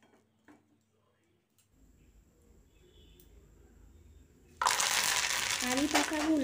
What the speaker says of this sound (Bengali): এবার আমি একই তেলের মধ্যে শুকনো লঙ্কা, কারি পাতা এবং চিনেবাদাম পরপর ভেজে নেব।